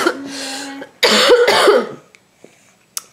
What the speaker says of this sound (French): On tousse en cœur.